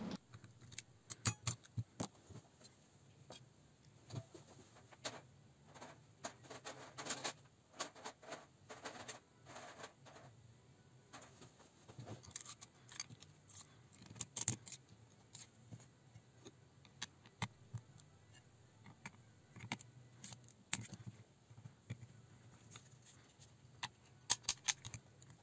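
Parts of an SRC MP40 airsoft gun are quickly fitted back together, with faint, scattered metallic clicks, taps and rattles coming in irregular bursts from close by in a quiet room.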